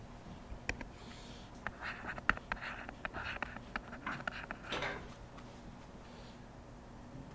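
A pen scratching out a number by hand on paper, a faint quiet scribble of short strokes and taps over a soft background hiss.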